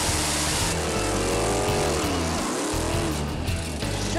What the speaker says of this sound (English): Let's see some burnout.